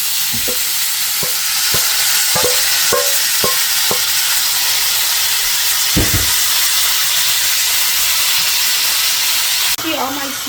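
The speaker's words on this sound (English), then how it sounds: "Now I'm gonna saute my seasoning in the same skillet." Seasoning sautés in the same skillet used to braise oxtail, giving a loud steady sizzle and hiss with several sharp utensil clicks and scrapes early on and a brief shift near the end.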